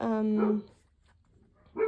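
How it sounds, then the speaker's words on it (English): Pet dogs barking indoors in a home, a loud burst of barks and whines at the start, a quiet pause, then another short bark near the end. "sorry, my dogs are barking."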